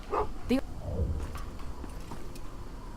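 A dog barks and yips in the Game of Thrones video game, a few short, fairly close barks near the start, followed by quieter whimpering, with spoken dialogue over part of it.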